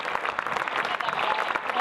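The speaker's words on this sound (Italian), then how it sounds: "Di nuovo un bel applauso." An outdoor audience at a historical reenactment of 24 May 1915 in Aiello gives the performers a steady, dense round of applause, many hands clapping at a moderate distance.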